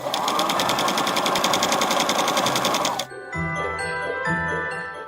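A sewing machine needle runs in a fast, even mechanical rattle for about three seconds, then stops abruptly as soft chiming tones take over.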